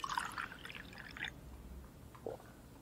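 Faint, close trickle and drip of alcohol being poured into a glass in a 1920 setting, with a couple of soft splashes in a quiet room.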